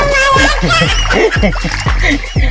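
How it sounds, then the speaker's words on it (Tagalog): Water splashing and sloshing in repeated bursts as laundry is dunked and rinsed in a provincial river in the Philippines, with faint voices in the background. "ang pagbabanlaw dito sa probinsya, pag ganitong ilog, ganyan lang"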